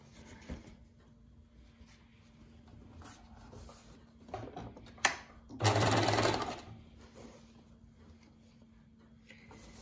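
A sewing machine stitches around a scrub top's sleeve, enclosing the raw edges, in one loud, steady burst of about a second amid quiet handling noises.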